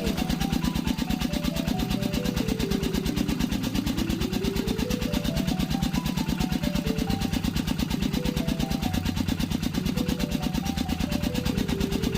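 A water pump engine drains a flooded rice paddy, running with a loud, steady mechanical drone and a fast, even pulse throughout, its pitch shifting slightly up and down over time.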